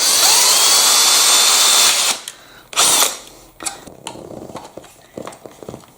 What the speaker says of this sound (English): Maybe I can get the body reamer in there.